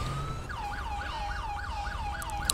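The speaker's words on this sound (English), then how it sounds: "Turn our siren, see if we can get through this light a little bit easier." Police car siren from GTA 5 wails in a repeating rising-and-falling cycle, loud and close, with a faint low engine hum underneath and no talking.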